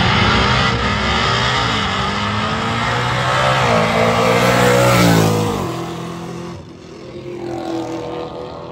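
A Ford Mustang drag car on Hoosier tires roars down a drag strip lane, its engine loud and close, revving hard as it accelerates past, then fading briefly before another surge.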